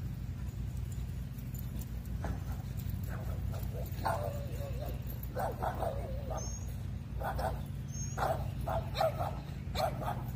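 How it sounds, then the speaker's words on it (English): Small dogs bark and whimper in quick, yappy bursts at a moderate distance beside a lake, over a steady low hum, with people talking at times. "Little doggies."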